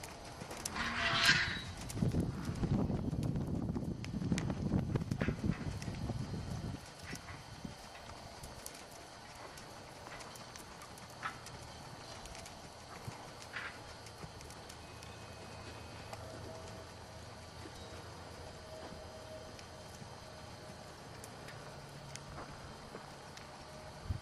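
The hooves of a gaited horse walking in a slow gait under a rider sound faintly. A louder rumble fills the first few seconds before the rhythmic hoofbeats settle into a quiet, steady background.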